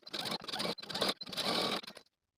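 Sewing machine stitching two jumpsuit front pieces together along the rise, a close, steady mechanical whir running in three bursts with brief pauses between them before stopping.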